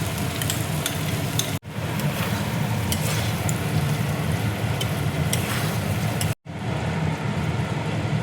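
Beaten curd goes into a paneer curry frying in a pan, giving a steady, close sizzle with faint stirring scrapes that runs continuously except for two brief dropouts, with no one talking.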